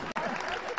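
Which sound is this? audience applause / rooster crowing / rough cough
audience applause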